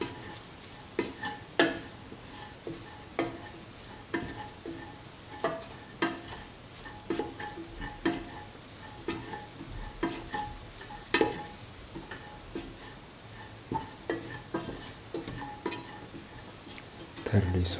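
Lemon chickpea carrot rice being stirred and mixed with spices and salt in a pot, giving regular scraping clinks of a spoon every second or so over a faint background hiss, close and fairly quiet, no talking.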